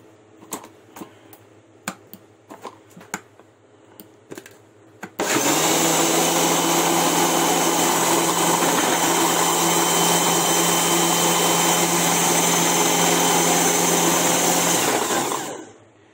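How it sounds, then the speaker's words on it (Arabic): An electric kitchen blender whirs steadily for about ten seconds as it mixes milk and sugar, loud and close. A few light clicks and taps come first, then the motor starts, holds an even roar and cuts off. "كده يبقى احنا ضربنا اللبن والسكر بتاعنا كده في الخلاط"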